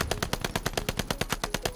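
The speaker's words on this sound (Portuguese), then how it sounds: "Ela tá atirando assim nessa velocidade." Fast continuous automatic fire from a video-game gun with a hip-fire and fire-rate build, close and loud, shots landing in an even rhythm with nothing else heard.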